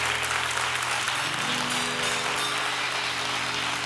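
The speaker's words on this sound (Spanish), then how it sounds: "En la semana más larga, un fuerte aplauso." A television studio audience breaks into loud, sustained applause, a dense even wash of clapping that fills the whole stretch without pause.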